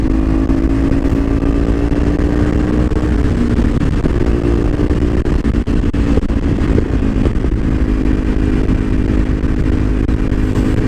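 A Kawasaki Ninja 300 motorcycle rides along an open road, its engine droning loud and steady with a constant rumble and wind roar throughout, no talking.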